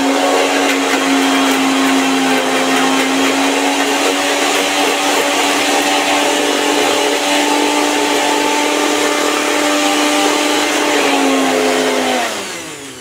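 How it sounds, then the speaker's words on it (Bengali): A kitchen electric mixer grinder whirs steadily at high speed for several seconds while it blends ginger, garlic and green chilli into a paste. The sound is loud and close, then winds down near the end, with no voices. "আদা, রসুন আর কাঁচা লঙ্কাটা আমি মিক্সিতে পেস্ট করে নেব।"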